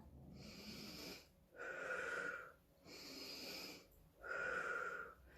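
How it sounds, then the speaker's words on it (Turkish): Slow, deliberate breathing, in through the nose and out through the mouth, during a children's exercise session: four long, close breaths with soft whistling and wheezy hiss, each followed by a pause, and no talk. "Hep beraber burnumuzdan nefes alıp ağzımızdan veriyoruz çocuklar."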